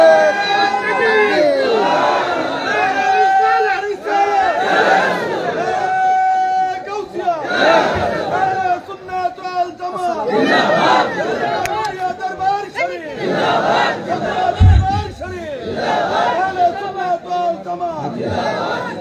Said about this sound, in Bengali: জবান খুলে তাকবীর হবে।